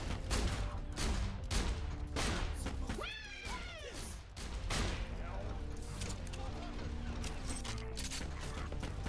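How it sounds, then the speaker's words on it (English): A long-range shotgun fires repeatedly in Borderlands: The Pre-Sequel, giving a steady run of loud, sharp blasts amid busy combat noise, with a brief voice-like sound in the middle. "I'm not quite sure if this is considered a shotgun or not. It's like a long range shotgun."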